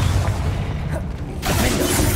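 A Confringo fire spell bursts in Hogwarts Legacy with a loud, dense, roaring boom that fills the whole short stretch and swells again after its midpoint.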